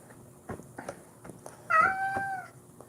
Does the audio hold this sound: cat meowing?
yes